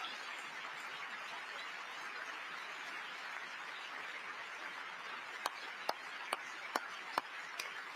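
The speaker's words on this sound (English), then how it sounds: "I thought that was you clapping." Applause fills the chamber of the U.S. Congress as a steady, dense wash of clapping, with a few sharp, louder individual claps standing out toward the end.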